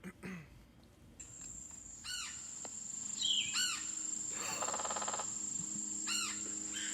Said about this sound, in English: It's a woodpecker. Yes, red-headed woodpecker.